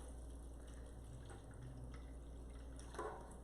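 White cranberry strawberry juice cocktail pours steadily into a container, a soft, quiet liquid trickle with faint drips, growing slightly fuller near the end.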